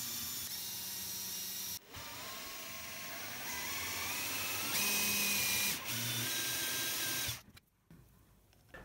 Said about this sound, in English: Drilled 6 holes to fit LEDs inside.